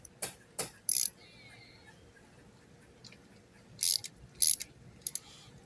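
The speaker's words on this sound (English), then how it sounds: "Put the nut back on and tighten it." Nut being tightened on a leaf rake handle, heard as a few sharp ratcheting clicks in short bursts with pauses between them, close by and fairly quiet.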